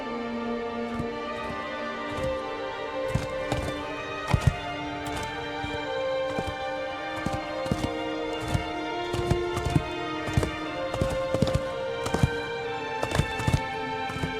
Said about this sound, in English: the goated horse is still alive